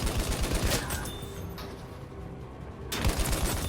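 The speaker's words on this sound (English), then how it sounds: "And there'll be some rifle shooting in here." Rifle fire in a video game, a rapid burst of sharp shots at the start, a short lull, then another dense volley, loud and close.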